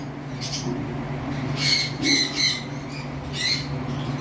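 A breeding pair of cockatiels in a cage gives several short, shrill squawks in bursts over a low steady hum.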